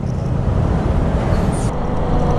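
A motorbike is ridden on the road with the throttle opening. Loud, steady engine and wind roar fills the whole moment up close, with no talking.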